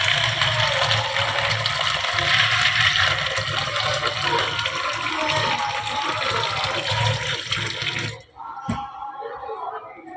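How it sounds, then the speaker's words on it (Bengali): Tap water runs steadily into a container while chickpeas are rinsed, a dense continuous splashing that stops abruptly near the end, leaving a few quieter drips and clinks. "সবার আগে ছলাটা ধুয়ে নিই ডালটা ছলাটা ভিজিয়ে রেখে দিই"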